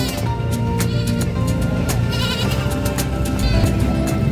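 Several short goat bleats recur through constant loud market crowd noise at a San Carlos livestock market, the animals calling at irregular intervals nearby.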